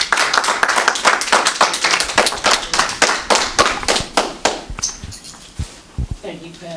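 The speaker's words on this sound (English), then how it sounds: "Let's greet him with a hearty hand clap." Audience hand clapping at an evening tour event, a hearty, dense round of claps that fades out over several seconds into a few scattered claps.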